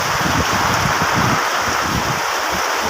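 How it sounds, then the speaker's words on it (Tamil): Heavy rain pours down continuously, a dense steady hiss of drops hitting surfaces with no voices. "இன்றைக்கி தான் அதிசயமாக இவ்வளோ மழை பெய்யுது"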